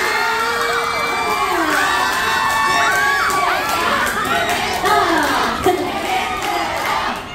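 A dense crowd of supporters at a cover dance contest cheers loudly and continuously, with overlapping high-pitched shouts, screams and whoops rising and falling.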